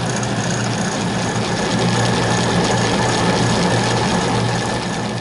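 A wood-cutting bandsaw being converted to cut metal runs steadily with a constant motor hum and a faint mechanical whir, its drive pulley slightly out of true, with no voices.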